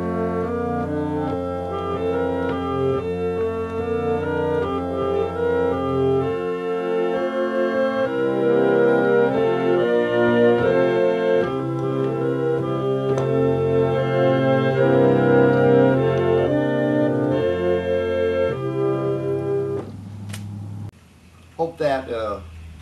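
An organ passage played with organ technique and finger substitution, sounding as smooth, connected sustained chords and melodic lines for about twenty seconds before fading to a quieter tail with a few brief sounds.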